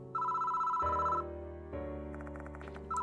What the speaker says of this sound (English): Why is the phone ringing now?